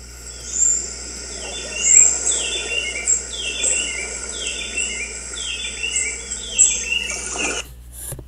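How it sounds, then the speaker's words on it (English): A forest ambience from an audiobook, with repeated bird calls and chirps over a steady insect and cricket drone, fairly faint and even, with no talking. "It's just the bird forest sound."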